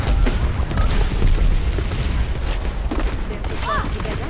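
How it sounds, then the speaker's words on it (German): Gunfire and explosions from Overwatch, with loud booms and rattling bursts of shooting layered over mechanical clatter, while someone talks. "Aha, auf mich schießen wollen sie."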